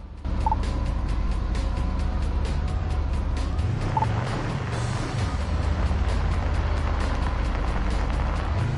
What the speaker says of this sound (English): Start by accelerating, then stop by braking in the marked zone.